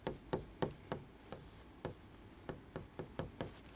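Pen or pencil writing on paper during a chemistry lesson, a close series of short scratching strokes at an uneven rhythm, each stroke distinct, with no talking.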